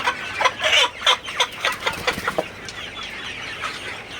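A series of short, sharp clucks from a Sonali rooster of about two kilograms nearby, coming in a quick irregular burst and then fading to quieter calls.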